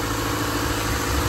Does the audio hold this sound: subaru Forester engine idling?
yes